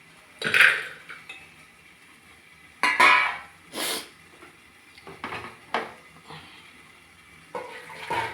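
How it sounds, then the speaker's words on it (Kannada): Upma being served from a cooking pot onto a plate, with a few sharp metal clinks and scrapes of utensils spaced out over several seconds, close and fairly loud. "ಈಗ ಒಂದು ಪ್ಲೇಟಿಗೆ ಸರ್ವ್ ಮಾಡ್ಕೊಳ್ಳೋಣ."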